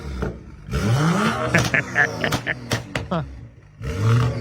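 A BMW X5M SUV with its muffler deleted revs in sharp bursts, the raw exhaust crackling and popping between throttle blips, while people talk nearby.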